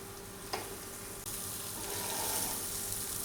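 Boiled eggs coated in masala sizzle steadily in a hot pan as they are turned one by one, a close, continuous frying hiss with a brief clink of the utensil partway through.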